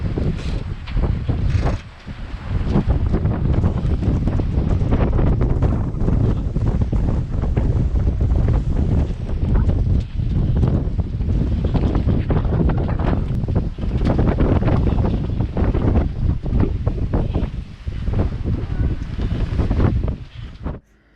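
Strong wind buffets a sailboat at sea in the South Pacific, sailing with one reef in the mainsail, as a loud, continuous rush and roar with gusts and water noise underneath.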